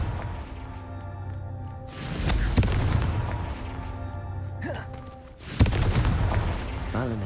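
Fiery blast spells from the Confringo curse in the Hogwarts Legacy video game, two heavy booming explosions a few seconds apart over a steady rumbling game score.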